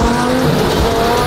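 A twin-turbo Lamborghini Huracan STO, built to 1650 whp, drives on a street with its engine droning loud and steady and a strong low rumble. There is no talking.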